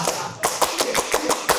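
Several people do a rhythmic Scout-style group clap, the tepuk pramuka or tepuk P3K, with sharp claps in a quick patterned beat, heard up close.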